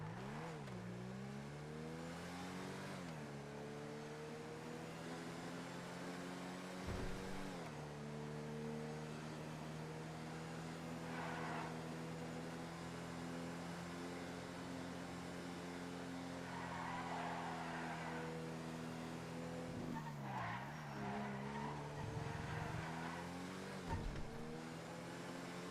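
A car test drive in a video game, with a steady engine drone that rises and falls as the car accelerates and shifts, and tire squeals and skids breaking in now and then, continuous and unaccompanied by talk.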